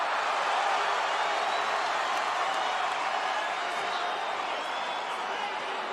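Arena crowd at a mixed martial arts fight roaring in response to a takedown, a dense, sustained wall of cheering and noise that stays loud and steady throughout.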